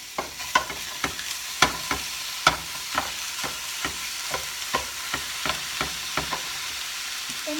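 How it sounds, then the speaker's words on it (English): Food fries in a pan in a home kitchen, a low continuous sizzle broken by regular sharp taps and scrapes of a utensil roughly twice a second, close and without talk. "I'm going to fry this up."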